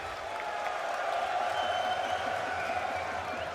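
A packed Accor Arena crowd at the Counter-Strike BLAST.tv Paris Major final roars and claps in a steady, dense mass of cheering, filling the hall at a constant loud level throughout.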